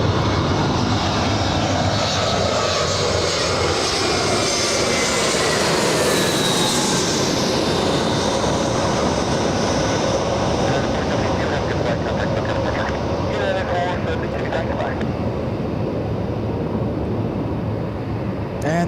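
Spirit Airlines airliner landing at LAX on a second approach, a loud sustained engine roar that swells and sweeps overhead near the middle, then fades into a steady broadband rumble with talk mixed in.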